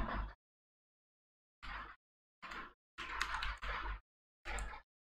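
Keys clack on a computer keyboard as a PAN number is typed, arriving in five or six quick bursts of close, crisp tapping separated by short silences, with no voices.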